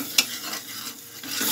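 Coriander is stirred into masala in a pan, with soft scraping strokes and a faint sizzle, one sharp clink of a spoon against the pan early on, close and quiet.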